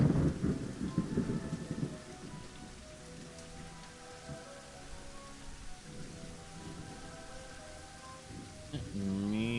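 Steady rain falls in the video game Elder Scrolls 2, with low thunder rumbling near the start and again later over the constant wash of rainfall.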